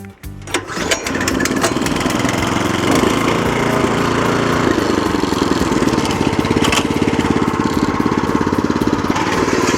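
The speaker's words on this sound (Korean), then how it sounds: "우선 시동을 거실 때는 공회전에서 걸어야 되니까 공회전에 놓고" Hwaseudan HSD1G75 walk-behind cultivator with a small single-cylinder engine, pulled to start at idle, catching after a brief sputter, then a loud, steady, rattling idle running close by without a break.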